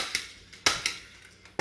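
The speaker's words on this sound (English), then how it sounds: "down the seam where I fold the paper in half, I'm going to staple it" A stapler punches staples down the fold of a paper booklet, making about four sharp, close clacks spaced unevenly over a moment, with no talking.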